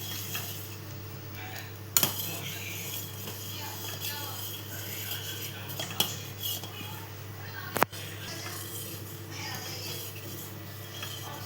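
A plain custard mixture is stirred in a pot for a summer custard, with a soft steady scrape under a low background hum and a few sharp spoon clinks against the pot.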